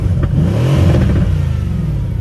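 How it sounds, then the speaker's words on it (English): A Mercedes C63s engine revs hard in Sport Plus mode, a loud, close, continuous roar that rises and falls over a couple of seconds with no talking. "I'm going to rev the engine right now."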